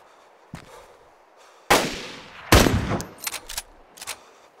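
Gunfire in the DayZ video game: a few sharp, booming shots at irregular intervals, two loud and close, followed by quicker, fainter cracks.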